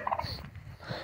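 A naked-neck rooster crows on a farm in short, loud bursts over about a second, sounding nearby with faint background noise.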